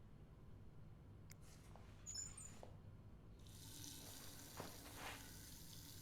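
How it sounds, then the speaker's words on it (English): Water running from a bathroom tap during cleaning, a soft steady hiss of flow that starts partway through, alone with a few small knocks and clicks. "Water works, I guess. At least it makes a noise."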